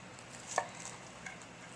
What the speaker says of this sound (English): take my monster knife here and cut in